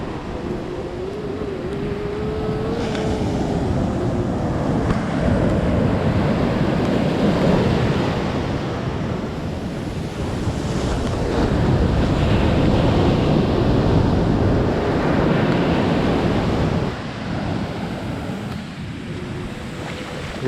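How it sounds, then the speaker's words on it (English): Large ocean waves break and roll continuously at Pelabuhan Ratu in a loud, uneven roar, heard up close with some wind buffeting the microphone. "Let's try to capture these waves from near."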